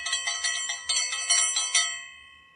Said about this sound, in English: Hit that bell notification so that you know every time I drop another video.